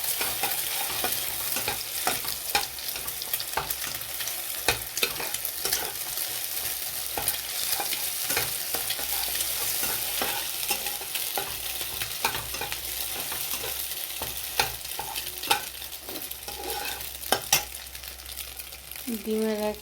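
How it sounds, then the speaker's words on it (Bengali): Eggs stirred and frying in a pan for an egg bhujia, a steady sizzle with scraping stir strokes and occasional utensil taps throughout, close and continuous with no talk. "ডিমটা ভুজিয়া করে নেব।"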